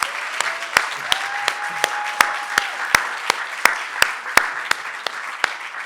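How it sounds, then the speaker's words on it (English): An audience at a Baltimore speaking event applauds: a full wash of clapping with a few sharp, louder claps standing out at a steady beat, close and sustained for several seconds. "So I just want to give them a round of applause."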